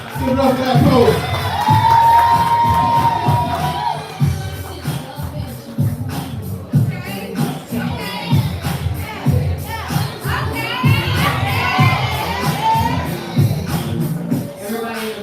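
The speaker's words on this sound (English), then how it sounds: "Give it up for that poet." A spoken-word poetry audience cheering, whooping and shouting loudly for a poet, with children's voices in the mix, sustained crowd noise rising and falling throughout.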